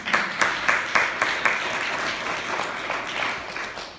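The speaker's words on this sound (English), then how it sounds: "Give Purcellville a round of applause" A town audience at a Purcellville state-of-the-town address applauds, a moderate round of clapping with a few sharp claps standing out near the start, then settling into a steady patter that carries to the end.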